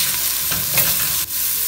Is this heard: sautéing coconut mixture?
yes